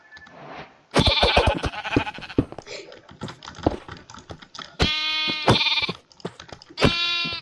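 Sheep in a video game give several loud, close bleats in bursts, mixed with rapid keyboard typing and clicking, while people talk in Polish over the top.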